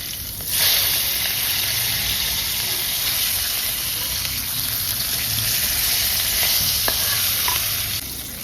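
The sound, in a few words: rohu fish piece frying in a pan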